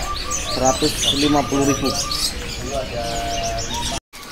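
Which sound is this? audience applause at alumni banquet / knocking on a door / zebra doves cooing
zebra doves cooing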